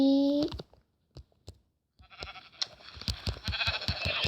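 A sheep's bleat in Minecraft opens, followed by sparse clicks and then a busy stream of tapping and clattering noises with a bright electronic tone.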